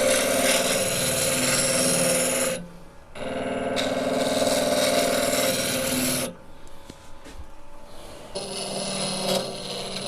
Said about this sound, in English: I'm going to drill another depth hole, back hollow the base.